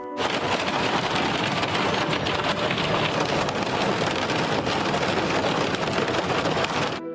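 Heavy rain pours steadily and loudly over a flooded park in Kyiv, a dense, constant hiss of drops drumming on surfaces with no pauses or voices.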